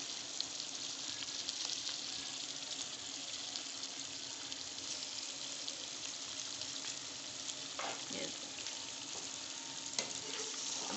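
Fish curry cooking with spices in a large pot gives a steady, close hiss of frying and sizzling throughout, with an occasional faint clink of a spoon.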